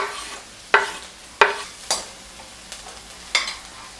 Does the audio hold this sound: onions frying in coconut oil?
yes